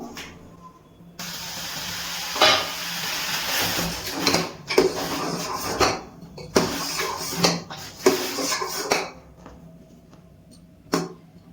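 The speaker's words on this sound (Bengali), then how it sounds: "গ্যাসের ফ্লেমটাকে হাইতে রেখে দুধটা ভালো করে জাল দিয়ে নেব।" Full fat milk boiling in a pot on a high gas flame, a hissing, bubbling rush with repeated surging bursts and pauses, close and steady with no talking.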